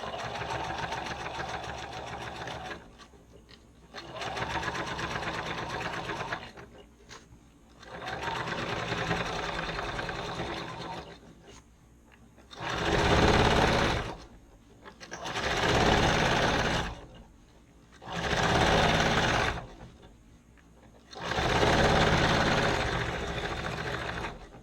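A sewing machine stitches a shoulder bag seam in four long bursts and four shorter, louder ones, each a steady whirring run broken by brief pauses, close and loud.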